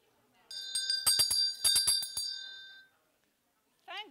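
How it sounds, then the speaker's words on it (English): A bell rings in a rapid run of bright, ringing strikes, with around eight sharp hits over two seconds, then a lingering decay before a brief voice sounds at the end. "Thank goodness for bells."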